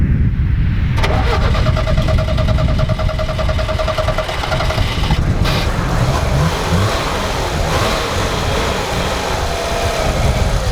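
A car engine cranks with a rapid whirring starter for a few seconds, then catches and runs with a loud, steady, close rumble throughout.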